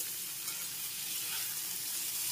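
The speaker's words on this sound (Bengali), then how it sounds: "এখন একটু নেড়ে চেড়ে ভালো করে ভেজে নিতে হবে।" Pointed gourd stuffing with chopped capsicum being stir-fried in a pan, a soft, continuous sizzle with faint stirring, fairly quiet and even throughout.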